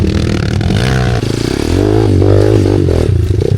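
A KTM 450 motorcycle engine revs loud and close on a trail, its throttle rising and falling continuously with some scraping clatter mixed in.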